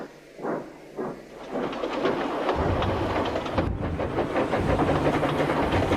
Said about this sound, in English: The next morning, Dippy pulled into the station.